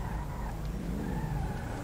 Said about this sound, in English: This grey muscle car.